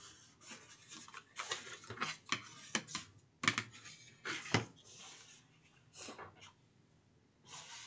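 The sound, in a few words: folding and burnishing the sides of a cardboard briefcase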